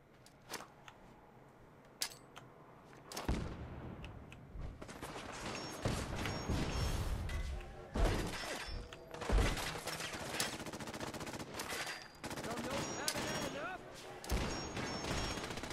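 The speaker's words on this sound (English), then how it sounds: "Throw some fragment grenades. That ought to do it." Fragment grenades thrown blind in Fallout 4 explode in a loud, dense run of blasts and crashes, with gunfire-like bursts continuing for several seconds, close and heavy, with a voice talking over them.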